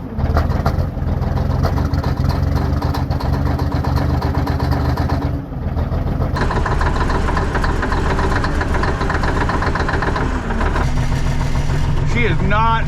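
Worn old Cummins diesel idles steadily in a 1980 K Whopper picker truck, a loud continuous rumble with knocking texture, with voices talking over it throughout.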